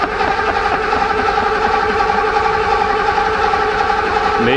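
A 37-year-old Mercedes-Benz engine running loud and close, with a steady droning hum that holds for several seconds before a shift in pitch near the end.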